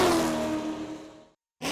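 A race car engine roars loudly and fades away over about a second and a half, like a car passing at speed on an asphalt track, then brief silence before another burst of engine noise returns.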